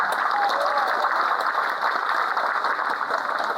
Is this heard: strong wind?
no